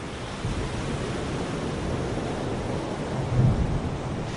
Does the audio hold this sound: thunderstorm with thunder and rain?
yes